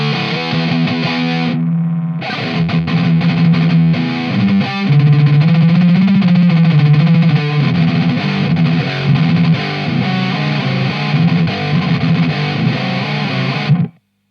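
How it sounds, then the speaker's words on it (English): Heavily distorted electric guitar through a Boss HM-2 or HM-3 distortion pedal, playing continuously, thick and saturated, with a brief drop near the start and a sudden cutoff at the end. "It's just a good distortion pedal"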